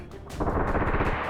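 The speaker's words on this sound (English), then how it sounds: "Those grenades sound like they do a lot of damage, but they kind of also don't. So, you know, you hear the big boom," A grenade detonating in the H3VR video game, a single heavy boom that swells suddenly and rolls on as a dense, loud rumble.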